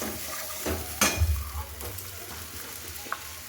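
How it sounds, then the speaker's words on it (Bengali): Spice paste for matar paneer is stir-fried in a pan, with a soft sizzle, a clink of a utensil against the pan and gentle scraping and stirring sounds close by. "এইভাবে এই মশলাটাকে একটু কষে নেব।"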